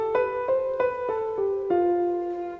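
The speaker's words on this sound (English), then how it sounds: "But Lydian has this raised fourth" A Lydian scale with its raised fourth played as single sustained notes, six or so evenly spaced tones in a clean, close run, heard alone without any voices.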